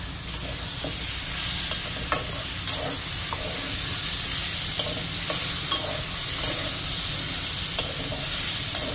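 Potatoes and pointed gourd fry with spices in a pan, giving a loud, continuous close sizzle with occasional soft stirring scrapes and no talking.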